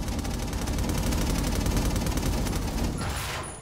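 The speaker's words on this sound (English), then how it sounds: "Just gotta keep leapfrogging these auto turrets." Automatic turrets in inFamous Second Son fire a dense, continuous fusillade of rapid shots, loud and close, the rattling bursts running without pause for several seconds before a brief high-pitched swish near the end.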